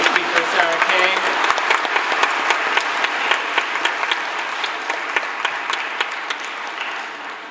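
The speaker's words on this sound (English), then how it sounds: "One more round of applause for our keynote speaker" An audience at a 2022 Forte Prep Academy graduation ceremony applauds the keynote speaker, a steady, dense wash of many hands clapping that stays loud throughout and tapers slightly at the end.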